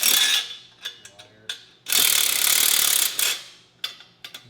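A ratchet on the last stock exhaust manifold nut of a Ford Mustang gives quick bursts of close, crisp clicking, then a longer run of steady ratcheting, with short pauses between strokes.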